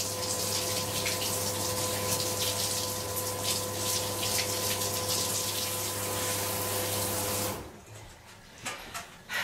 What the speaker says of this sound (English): the feeling of having that beautiful water just cascading onto my head is just indescribable